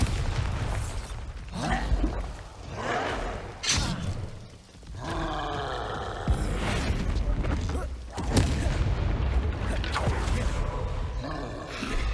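Spell explosions and impacts in Hogwarts Legacy, booming blasts and roaring bursts one after another amid combat noise, loud and close, with a voice calling out spells between them.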